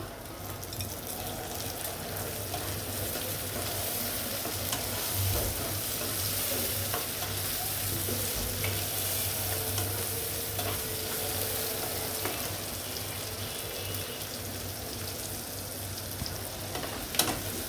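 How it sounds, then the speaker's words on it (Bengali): Onions and chopped tomato fry in a pan, giving a steady close sizzle with stirring scrapes running throughout, alone with no talk. "পেঁয়াজকেও ভাজবো আমি সুন্দর করে। আর টমেটো কুচি দিয়ে দেব।"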